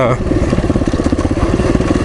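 A trail motorcycle with a Hagon rear shock is ridden on a forest road trail near Meeker, its engine a loud, close, rapidly pulsing chug throughout, with a voice over it.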